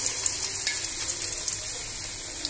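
Cauliflower and chicken pakoras frying in hot oil, a steady close sizzling hiss holding level throughout with a few small pops and crackles.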